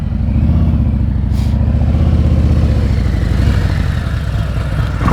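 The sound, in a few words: motorcycle throttle during slow-speed riding practice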